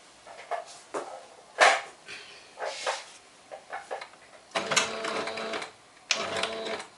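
A sewing machine stitches a green strip and a pink strip of fabric together in short bursts of whirring, several runs of varying length separated by brief pauses, close by, with no talking.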